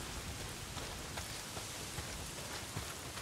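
Steady heavy rain from the Days Gone video game, a dense, constant wash of downpour with scattered louder drop hits, filling the whole stretch with no voices.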